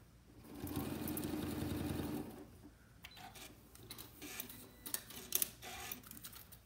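A sewing machine fitted with a decorative stitch foot stitches in a fast, even whir for about two seconds while couching thread, then stops, followed by light clicks and handling noises nearby.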